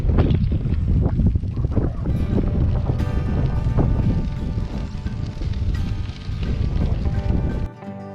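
A strong headwind buffets the microphone during bike camping on the flat Katy Trail, a loud, steady roar of rumbling gusts that runs for the whole stretch and drops off at the end.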